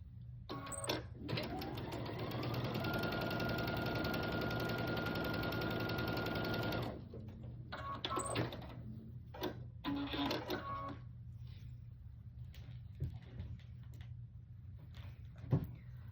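A sewing machine stitches a seam in fabric for a fall pumpkin door hanger, a fast steady whirring run of about six seconds, followed by quieter handling noises and clicks.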